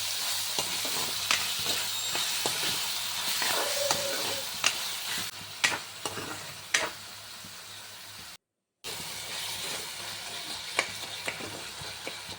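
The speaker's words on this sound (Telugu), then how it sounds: "టమాటీ కూడా బాగా ఫ్రై అవ్వాలి" Tomatoes fry in a pan for an egg curry, giving a continuous crackling sizzle dotted with frequent clicks and scrapes of stirring. A brief silent dropout falls partway through.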